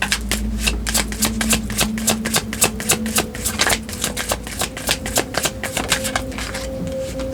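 A tarot deck being shuffled gives a long, steady run of rapid card riffles and flutters, close and continuous, over a faint low hum.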